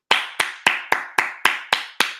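Eight sharp, evenly spaced claps in a steady rhythm, loud and close, each with a quick fading tail, from one pair of hands rather than a crowd, with no talk.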